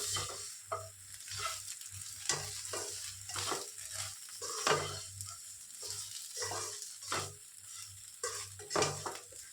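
A spoon stirs onion-leaf sabji in a pan with a soft sizzle underneath, irregular scraping strokes repeating close up and fairly quiet.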